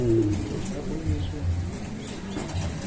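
Pigeons coo softly in low, rounded calls, several overlapping nearby, with people chatting over them.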